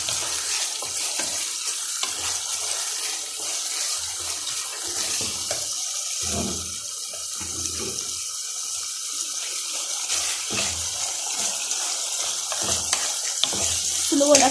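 Chicken liver sautéing in a hot pan gives off a steady, close sizzling hiss, with occasional soft clinks and scrapes as it is stirred.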